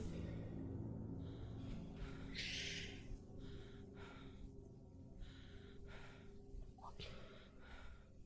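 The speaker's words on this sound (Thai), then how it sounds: "เสียงเหมือนคนสะอื้นเลย" Soft, shaky breaths and muffled sobbing from a person inside the horror video game At Dead Of Night, with a few gasping catches rising over a low, dark ambient drone.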